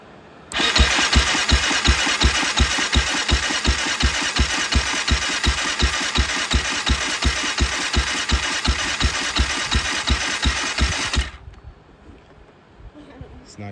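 An engine with low compression cranks steadily with the throttle fully open during a compression test, a loud rhythmic chugging of the starter for about ten seconds that then stops, leaving quiet.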